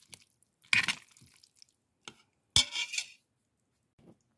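Kung Pao chicken spaghetti sauce being stirred in a pan, two short bursts of clinking utensil and wet squishing against the cookware with quiet gaps between.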